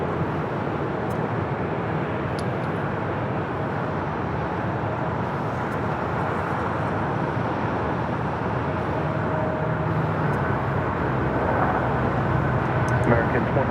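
An Asiana Airbus A380 approaching runway 24 right at LAX, heard as a continuous broad jet roar that swells slightly toward the end, with a voice talking faintly over it.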